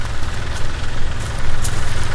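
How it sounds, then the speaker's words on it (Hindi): A tractor engine idles steadily in a peanut field, a continuous low rumble with a rough mechanical texture that holds at an even, fairly loud level throughout, with no talking. "करण आ रहा है लखू भाई का बेटा ट्रैक्टर लेके।"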